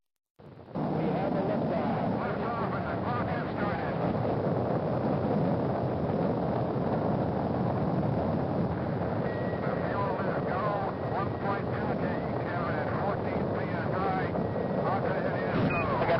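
Rocket engine launch in the space race game Race Into Space, a broad steady roar that begins abruptly and holds loud and constant for the whole stretch, with a voice speaking over it.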